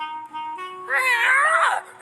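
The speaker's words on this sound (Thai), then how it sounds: "มันเป็นแค่ลูกแมว" A cartoon kitten in a Tom and Jerry episode meows, a short soft mew followed by a longer, louder wavering cry, close and alone.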